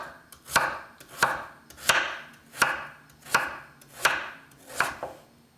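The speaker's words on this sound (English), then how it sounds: "Now that I have it cut up, I'm just going to slice it down" A knife slices through food being prepared for a green iguana, striking the cutting board in seven evenly spaced, crisp chops, close and distinct, with no talking.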